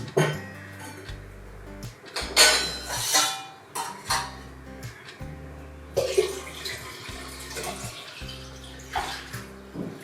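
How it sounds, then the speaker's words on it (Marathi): Water that was boiled and then cooled is poured into a clay pot in a home kitchen, giving repeated splashing pours and trickles broken by short pauses and a few light clinks of vessels, with no talking. "पाणी पण उकळून थंड केलं होतं आणि मी ते माठात भरून दिलं"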